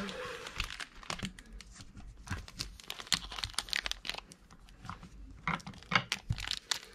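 Crinkling and tearing of foil wrapping as a Topps trading card pack is ripped open, with busy bursts of crackling plastic handled close up and faint voices in the background.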